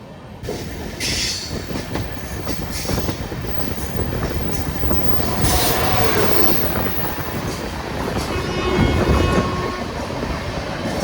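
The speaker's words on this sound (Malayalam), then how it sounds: "ഷാലിമാർ നാഗർകോവിൽ ഗുരുദേവ് എക്സ്പ്രസ് ആട്ടോ ഇപ്പോൾ കടന്നു പോണത്." The Shalimar Nagercoil Gurudev Express rumbles past on the railway in Kerala, a loud continuous roar of wheels and wagons with rattling clatter and squealing throughout.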